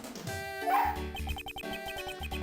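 Police dog Missile from Ace Attorney Investigations gives a quick string of short, yappy barks, close and bright, over game music with no talk.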